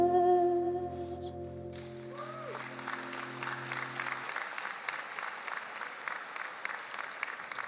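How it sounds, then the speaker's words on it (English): Loud audience applause fills a Sunway University convocation hall after two performers finish, rising as their music fades out and continuing as a dense, steady clatter of many hands. "Let's give them one more big round of applause."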